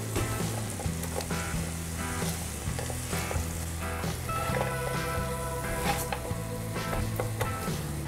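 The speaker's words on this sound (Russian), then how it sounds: "И уже готовый рис мы добавляем к мексиканской смеси и перемешиваем." Cooked rice is stirred into a Mexican-style mix in a hot pan, giving a steady, loud sizzle with soft scraping and shuffling, while faint music plays underneath.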